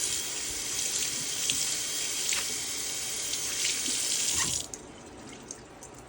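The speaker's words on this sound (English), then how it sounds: "now I'm just going to rinse out this magic eraser" Sink tap running hard while a magic eraser is rinsed beneath it, a steady broadband rush of water for about four and a half seconds before the flow cuts off, leaving a few drips.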